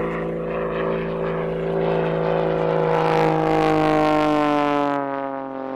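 A modified aerobatic propeller plane with a 300 hp, 8.5 litre engine drones steadily overhead during a solo display at a country airshow, loud and sustained, swelling slightly then easing away.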